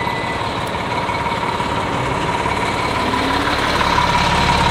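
A bus engine idles steadily up close, a continuous low rumble with a constant mechanical hum and no breaks or speech.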